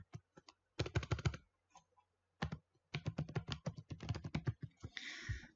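Quick bursts of keystrokes on a computer keyboard type a title into a form in Microsoft Access, soft close clicks in short clusters separated by brief pauses.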